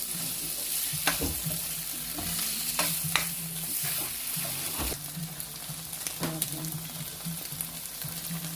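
Oyster sauce being stirred into radish and chicken liver frying in a pan: a steady sizzle runs throughout, with spoon scrapes and clacks against the pan every second or so, close and alone without voices.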